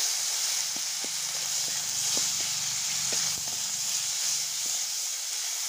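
Ginger-garlic paste ground with cumin and chilli sizzles steadily in a pan for Bengali egg and new potato dum, a continuous hiss with scattered crackling pops and a few soft stirring knocks.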